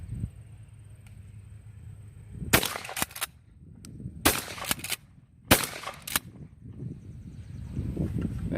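A 20 gauge pump-action shotgun fires at a pizza box over a short distance, with three or four sharp, loud blasts in close pairs and shuffling and rustling between them.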